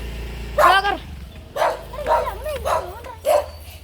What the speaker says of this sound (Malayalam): എന്താണ് പട്ടി ഇവിടെ പട്ടിയുണ്ട് കേട്ടോ